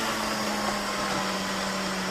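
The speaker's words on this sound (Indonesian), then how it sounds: "sambil memblender kita tambahkan bahan-bahan ini, kita masukkan lagi blender ini" A kitchen blender grinds fish, banana and other ingredients for homemade amino acid plant fertilizer, giving a steady, loud motor whine with a constant hum and no talk.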